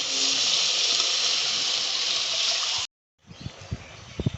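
Water pours steadily into a pan of tilapia curry for a few seconds, then stops; afterwards soft bubbling and a few light utensil knocks follow.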